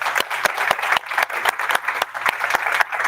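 Applause from a hackathon demo audience, a steady wash of many hands clapping with a few sharper claps standing out, moderately loud and continuous, with no talking over it.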